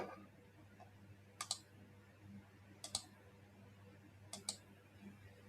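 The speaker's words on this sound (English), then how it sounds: "I'm now going to log in as a test user by entering the login details and clicking Log In." Three pairs of sharp double mouse clicks sound during a computer login, well spaced and close to the mic, over a low steady hum with no talking.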